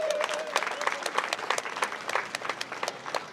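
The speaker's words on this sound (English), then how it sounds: "So let's give a round of applause for Paula." An audience at the Bristol Veteran Memorial Boulevard centennial celebration gives Paula a round of applause: dense, steady clapping from a sizeable crowd that fills the whole stretch at an even level.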